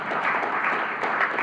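Congregation clapping in a church during a Sunday sermon, a steady dense patter of many hands that holds at an even level throughout without a break.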